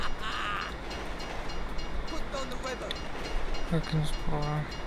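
A train rumbles past in the game Grand Theft Auto 5, a steady low roar with rail clatter throughout and a few short horn-like tones near the end.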